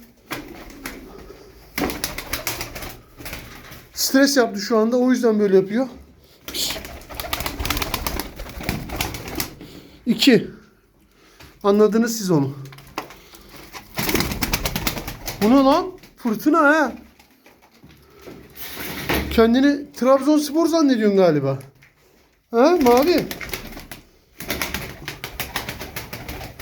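A Turkish tumbler pigeon named Fırtına coos in several warbling bursts between stretches of someone talking nearby.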